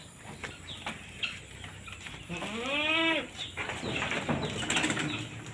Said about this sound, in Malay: boleh kita tengok kambing-kambing ni